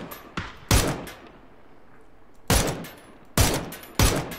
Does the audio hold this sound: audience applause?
no